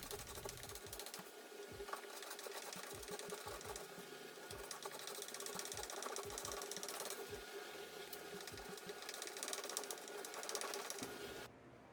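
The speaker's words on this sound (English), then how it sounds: "I'm not the best at using this scraper, so I'm trying to get a little more practice" A hand scraper stripping paint from a painted-over mid-century modern dresser, repeated short scraping strokes in an irregular rhythm, close up over a steady background hum.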